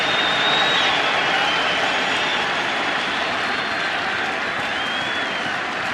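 A packed baseball stadium crowd at a 2009 World Series game, Philadelphia at New York, roars continuously and loudly, a dense, unbroken wall of cheering and noise with no pauses.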